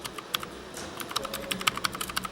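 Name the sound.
typing on a computer keyboard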